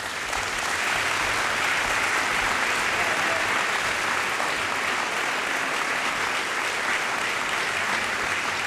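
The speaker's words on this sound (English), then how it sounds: "let's give another round of applause for Jesse Jackson." An audience applauding Rev. Jesse Jackson at a Sacramento volunteering event, a dense, sustained wash of many hands clapping steadily without letup.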